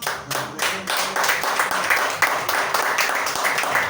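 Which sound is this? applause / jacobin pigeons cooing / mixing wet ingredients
applause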